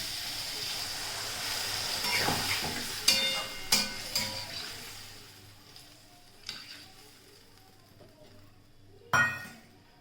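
A splash of water goes into vegetables cooking in a hot pan, bringing sizzling and frying sounds, occasional clinks of a utensil against the pan and a sharp burst near the end.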